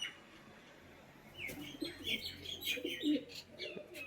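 Baby pigeons call close by, thin squeaky chirps mixed with soft low coos in a quick irregular patter that grows busier after the first second.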